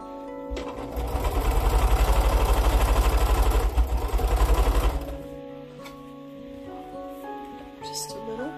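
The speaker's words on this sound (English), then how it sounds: "I think I'll just go ahead and chain stitch these as well" A sewing machine chain stitching quilt pieces runs in a fast, rhythmic whirring burst for about four seconds, then stops, leaving quiet room sound with faint clicks.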